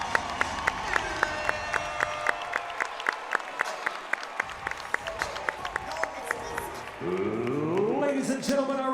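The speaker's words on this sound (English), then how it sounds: "So a big round of applause for that man stepping up last minute." A crowd at a cage fighting event claps in scattered, sharp bursts that keep a rhythmic beat, then the noise swells into louder crowd sound as an announcer's voice comes in near the end.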